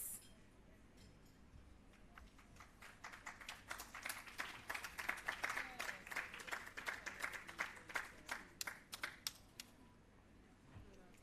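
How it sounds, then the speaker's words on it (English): Graduation ceremony audience claps for a restorative justice facilitator graduate, a moderate, scattered applause that builds to a peak and fades away, heard at a distance in a hall. "A round of applause, ladies and gentlemen, for graduates from Tivoli Gardens"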